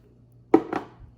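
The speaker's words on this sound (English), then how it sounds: "I gotta put this in the sink. Put the lid in the sink." A blender lid set down in a sink gives two quick hard knocks, close and fairly loud, with a faint trailing clatter and no dripping clearly audible.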